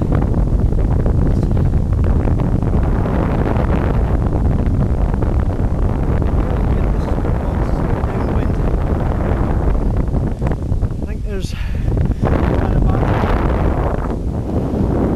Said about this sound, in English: that's where the wind's coming from